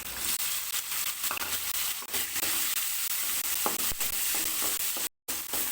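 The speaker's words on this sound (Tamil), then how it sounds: "இதெல்லாம் போட்டு நல்லா வதக்கிட்டு" Shallots, tamarind and tomato sauté in a pan for colour idli, giving a steady, fairly quiet sizzle with soft stirring scrapes. It runs continuously, with a brief dropout near the end.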